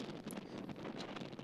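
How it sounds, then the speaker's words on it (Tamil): Strong wind gusts across a jetty reaching far out from the shore, buffeting the microphone with a rough, continuous rumble in a short burst and no voices. "இடத்துலையும் சரியான காற்றடிக்குது"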